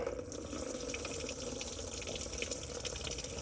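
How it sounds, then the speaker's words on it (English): Fluid draining out of a 1971 Plymouth Road Runner after a plug is loosened, a steady close trickle and splash of liquid pouring into a pan, continuous and moderately loud with no talk. "unloosen this right here, and the fluid is going to start coming out"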